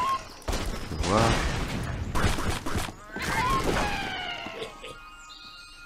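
Angry Birds video game explosions blow apart a fortress, several loud bursts and crashing debris in quick succession, with a man briefly counting aloud between blasts.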